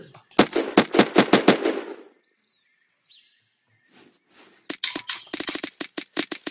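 Rapid video game gunfire rattles out in a dense burst of shots for about two seconds, goes quiet, then resumes as quicker, sharper volleys near the end.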